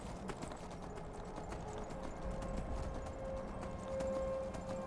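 Horse hooves clip-clop in a steady walking rhythm in the video game Skyrim, close and moderately loud, alone without talk.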